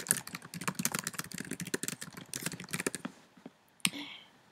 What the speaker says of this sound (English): And I just type in the lyrics.